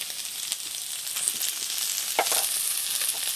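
Crab frying in a pan of mustard oil gives a close, continuous hissing sizzle with scattered crackles and a scraping stir partway through, with no talking.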